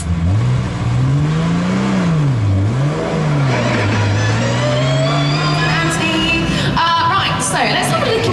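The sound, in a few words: McLaren 675LT engine starting and driving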